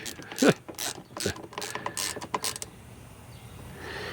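Socket ratchet clicking in several quick bursts while tightening side cover bolts on a Ford inline six engine, close and fairly loud, with short pauses between strokes and no talk.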